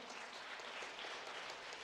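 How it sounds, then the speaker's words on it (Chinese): A church congregation claps to welcome a new staff member at a Sunday service, a soft, even patter of many hands heard from a distance, faint and steady. "来，淑令姐妹来拍手欢迎她"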